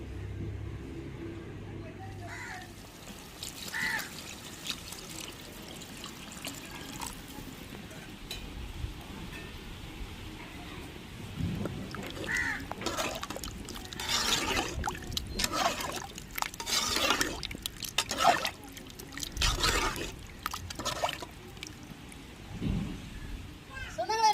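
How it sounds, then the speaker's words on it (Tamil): Dissolved tamarind water is poured into masala for a vanjiram fish-head curry, producing intermittent liquid trickling and splashing in a pan, with a person talking throughout. "இந்த மசாலையோடய கரைச்சது புளியை சேர்த்துக்கிறோங்க."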